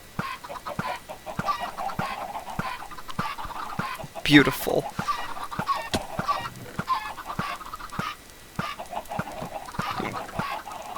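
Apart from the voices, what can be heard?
chickens clucking in Minecraft video game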